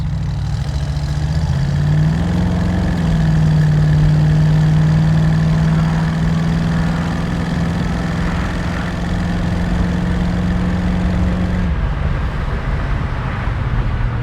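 A 1968 Ford Mustang's 289 V8 rumbles loud and close as it pulls away, the engine note rising then holding steady before easing off near the end.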